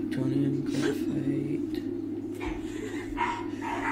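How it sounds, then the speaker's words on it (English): Dogs barking in a house, a few loud woofs and yips scattered over a steady low electrical hum from a computer setup, with a person talking at times. "Sorry about my dogs. They're pretty loud."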